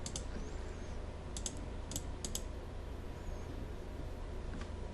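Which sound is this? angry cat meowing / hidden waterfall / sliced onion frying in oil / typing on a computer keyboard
typing on a computer keyboard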